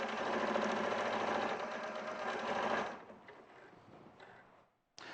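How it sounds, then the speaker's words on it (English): A sewing machine stitches quickly across a stuffed fabric toy, a steady dense whirring run for about three seconds before it slows and stops, followed by a brief sharp clack near the end. "So I'll stitch across there quickly."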